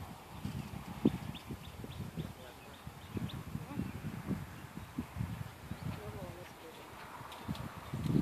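A horse canters in a show jumping arena, its hooves thudding in a rhythmic three-beat pattern at moderate distance, while a rider's voice speaks over it.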